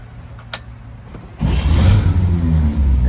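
After a quiet moment with a small click, a 1948 Chevy pickup truck's engine cranks on its 12-volt system and fires up into a loud, close, rumbling idle that keeps running steadily.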